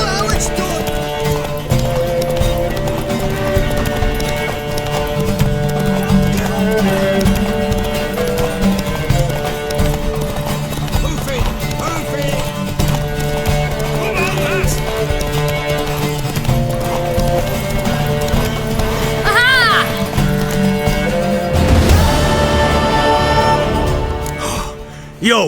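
A horse gallops in The Witcher 3 video game, steady rapid hoofbeats drumming throughout over layered game music, with a brief whinny or gasp near the end and game voices only faint.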